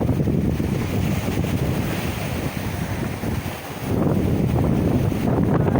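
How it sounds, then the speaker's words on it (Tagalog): Strong wind on a beach at Sual, Pangasinan roars continuously across the microphone, loud and buffeting, with a brief dip before gusting back at full force. "Napakalakas po ng hangin."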